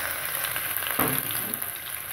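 Ginger garlic paste sizzles in a frying pan with curry leaves and cinnamon for chicken karhi, a steady close frying hiss with a brief burst of crackle midway as the paste hits the hot oil.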